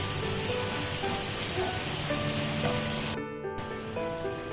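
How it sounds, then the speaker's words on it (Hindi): Steady sizzling of ginger garlic paste frying in a hot pan, close and continuous, with a brief drop out near the end. "तो अब हम इसमें डाल देते हैं जिंजर गार्लिक पेस्ट।"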